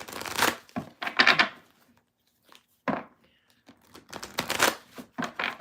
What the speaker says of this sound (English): Let me go ahead and shuffle, and then we will get into the next card.